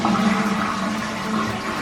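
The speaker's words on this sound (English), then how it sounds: "We also have a toilet, as you might expect. Flushes based on intensity." A hotel suite toilet flushes close by, a steady rushing of water that lasts the whole moment without fading, with no talking.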